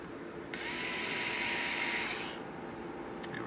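A power drill drives 2 1/2-inch screws into a wooden folding tablet stand, one steady whirring run of about two seconds, close and fairly loud, with a couple of faint clicks afterward.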